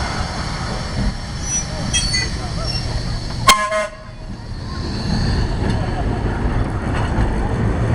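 A trolley numbered 1624 at a rail festival parade gives one short, sharp horn toot midway, over a background of rumbling rail-car movement and faint crowd murmur outdoors.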